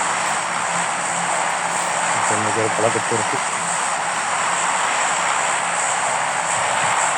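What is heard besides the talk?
airplane engine in PUBG video game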